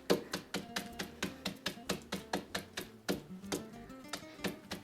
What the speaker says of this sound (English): I use my little molcajete stone and just mash them down a little bit